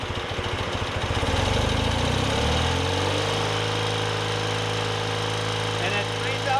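Motorcycle engine held steady at about 3000 RPM during carburetor balancing, a continuous close, loud drone that smooths into an even hum partway through.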